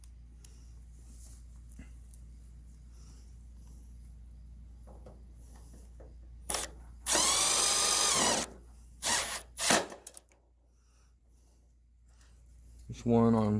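A power drill drives screws into a seamless gutter in two bursts, a sustained whirring run followed by shorter pulsing spurts, with people talking quietly around it.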